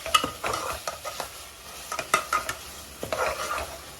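Turmeric frying with mashed tomato for Andhra-style chicken curry, bursts of spoon scraping and stirring over a light sizzle in a pan, with short pauses between strokes, close and clear, no voices.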